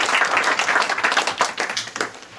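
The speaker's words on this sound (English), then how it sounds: "So give her another round of applause." Applause from parents and guests at a music academy student program, a moderately close patter of individual claps with a rippling, uneven rhythm that thins out toward the end.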